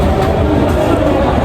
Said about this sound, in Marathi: आम्ही मेट्रोमध्ये जातो आहे